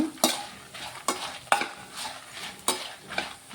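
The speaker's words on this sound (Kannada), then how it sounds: "ಸ್ವಲ್ಪ ಒಂದು ಸ್ಪೂನಷ್ಟು ಧನಿಯಾ ಬೀಜ ಹಾಕೊಳ್ಳಿ ಇದನ್ನು ಕೂಡ ಉರಿಬೇಕು" Coriander seeds frying in hot oil in a cooking vessel, a soft continuous crackle broken by four or five sharp spoon-stirring scrapes at a fairly even rhythm, close and quiet with no voices.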